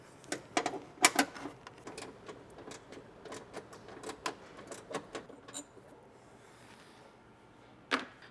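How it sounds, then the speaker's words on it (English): A 1/4-inch ratchet with a 10mm socket loosens a bolt on a Toyota Tacoma, giving a series of sharp, close clicks and metallic taps in uneven bursts, then a pause and one final click. "take my 1/4-inch ratchet with a 10mm socket. I'm gonna reach down and loosen up, remove that 10mm bolt"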